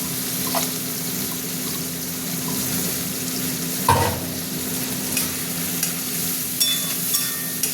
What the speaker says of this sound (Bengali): টমেটো ভাজা হবে, চিংড়ি মাছটাও ভাজা হবে